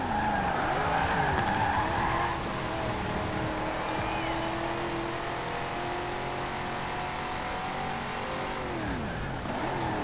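Race cars, among them a Mustang, a Charger and a Daytona, compete in the Forza Horizon 4 video game. Engines drone steadily, with pitch rising and falling through gear shifts. Tires squeal through corners and the engine noise stays dense throughout.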